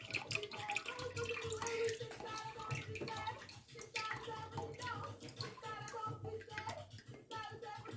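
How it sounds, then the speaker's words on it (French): Tamarind juice drains and trickles through a kitchen sieve into a bowl, a steady close watery pouring with drips, and a voice talks over it. "dans ma passoire, je vais récupérer le maximum de jus"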